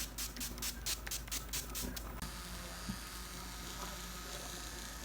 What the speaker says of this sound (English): The next thing I do is to use my setting spray to set my concealer.